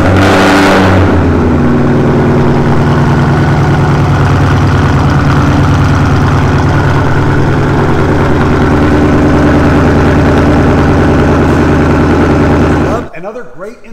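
A Ford Mustang S550 fitted with a cold air intake fires up and revs loudly nearby, its deep rumbling engine note sustained for about thirteen seconds before cutting off abruptly.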